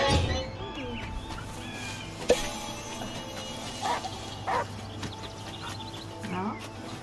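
A dog in the video game Last Day of June gives several faint, scattered barks amid quiet ambience with bird calls.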